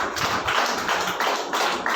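A church congregation at a Friday prayer meeting claps hands loudly in a steady, rhythmic beat, close and energetic, with no talking over it.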